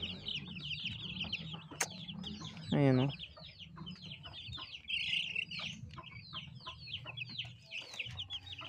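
Chickens cluck and murmur close by in a farmyard, several birds overlapping in soft rhythmic bursts, with one louder squawk partway through and a brief spoken word.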